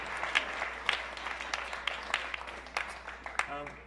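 An audience applauds the Urban Voices Project at a live arts event, scattered claps and cheers at moderate level with a voice briefly breaking in at the end.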